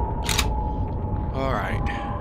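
A weapon being reloaded in the shooter game F.E.A.R., heard as a short burst of metallic clicks followed a second later by a longer mechanical slide-and-latch rattle over a steady low game background.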